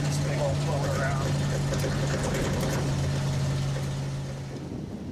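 An old car with a big blower engine drives on a road test and turns around, its steady low engine drone running throughout, with a person speaking over it before the sound eases slightly at the end.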